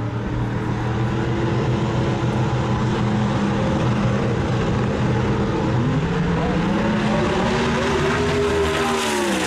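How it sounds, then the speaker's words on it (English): A drag race car's turbo spools up at a meet in Boise, Idaho, a loud, rising whine over a heavy engine rumble, pitch climbing and sweeping upward toward the end as the engine revs hard nearby. "they're spooling him"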